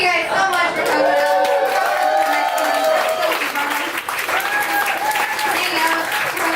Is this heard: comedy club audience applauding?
yes